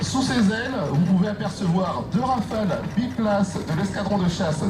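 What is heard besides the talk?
No everyday noises stand out.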